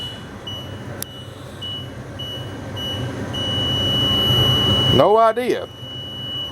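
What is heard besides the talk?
RV warning buzzer going off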